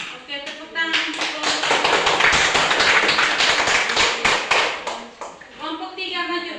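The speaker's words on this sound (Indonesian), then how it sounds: "Oke, tepuk tangan untuk" A classroom audience claps after a group presentation, a dense burst of many hands that swells from about one second and fades near five, with scattered voices audible around it.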